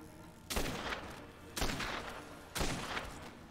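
Gunfire in the video game Dead Rising 2: three sharp bursts of rapid shots about a second apart, each trailing off briefly, fairly faint with no talk.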